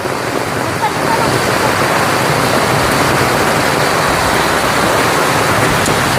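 Dense, steady roar of heavy rain pouring down, loud and continuous with a broad hiss throughout, no pauses.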